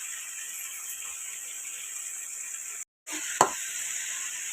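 Semiya upma fries in oil with a steady, fairly quiet sizzle, broken by a brief dropout and one sharp knock near the end.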